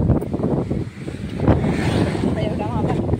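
Strong wind buffets the microphone on a village path outdoors, a loud rushing roar throughout with a person's voice speaking underneath.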